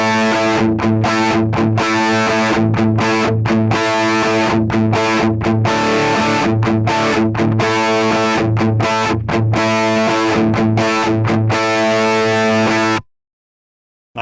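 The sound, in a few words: electric guitar simpler high riff, tone on Helix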